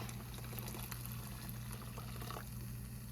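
A large kitchen pot filling with water, a soft continuous running and trickling pour under a steady low hum from the stovetop area, faint and unbroken throughout.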